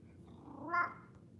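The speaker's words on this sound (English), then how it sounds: "Your kitty is purring too." A cat purring in close contact with a person, a steady low rumble throughout with a brief meow-like vocal rising near the middle, quiet and close.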